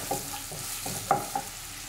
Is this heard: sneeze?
no